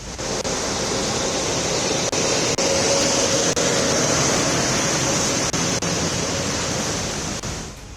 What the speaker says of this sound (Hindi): रुक रुक कर हो रही तेज बारिश से दिल्ली पानी पानी हो गई है।